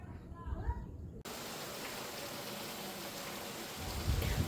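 Steady rain hisses throughout, with a brief burst of other sound at the start before an abrupt cut to the even downpour.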